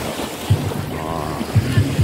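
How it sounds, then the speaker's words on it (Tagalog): Sea waves wash along the shore at Masinloc, Zambales, a steady wash of water and wind with a few low thumps of surf breaking close by, and no talk. "Ito isa nasa tabi ako ng dagat. Ganda ng tubig, oh."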